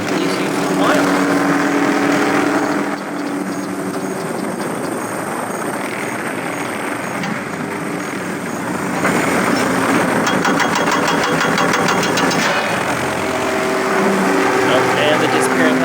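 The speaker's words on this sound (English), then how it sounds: "And the helicopter coming for me." A helicopter in the zoo-management game Zoo Tycoon 2 hovers with a steady rotor chop and engine whine that dips and returns, while a person talks over it.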